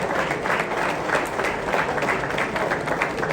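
Steady, dense audience applause at a forex trading expo, a crowd clapping together at even strength throughout.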